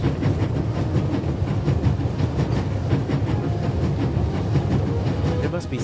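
A moving train in the video game The Raven rumbles steadily and close, with a dense broadband roar and faint regular clacking throughout and no talk.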